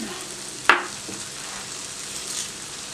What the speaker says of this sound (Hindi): इसमें चम्मच मसलसल चलानी है